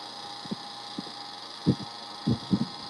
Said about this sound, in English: we got some of this dark Hawaiian that's just being roasted